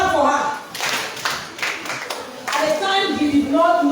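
Several people clap for a child's answer in a classroom or school gathering, a short burst of applause under ongoing voices, with brief pauses and some talk and chatter around it.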